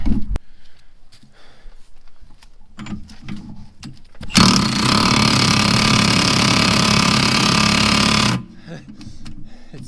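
A truck differential, an Eaton Detroit Truetrac in a Chevrolet Avalanche, is spun by hand and gives a loud, steady mechanical whir lasting about four seconds, with clanks and handling noise before and after.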